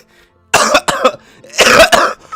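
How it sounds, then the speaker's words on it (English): A person coughs hard several times in two quick bursts, loud and close, with short pauses between the harsh, breathy coughs. "I'm coughing like crazy"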